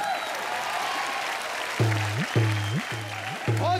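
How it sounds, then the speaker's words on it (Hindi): A studio audience at a televised comedy show applauds in a steady, noisy wash, joined partway through by a short repeating musical sting. "जोरदार तालियां हो जाए।"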